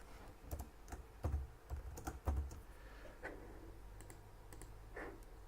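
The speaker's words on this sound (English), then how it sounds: "We need to type some numbers here." Fingers typing numbers on a computer keyboard, a quiet run of irregular clicking keystrokes with a few sharper taps, alone with no talk.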